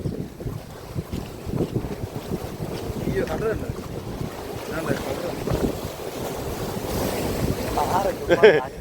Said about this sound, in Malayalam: ഭയങ്കര തിരയുണ്ട് കേട്ടോ